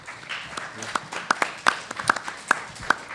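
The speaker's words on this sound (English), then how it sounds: "I think that deserves a round of applause, quite honestly." Scattered clapping from a town hall audience, a handful of sharp individual claps building into a short, thin burst of applause, with some murmuring underneath.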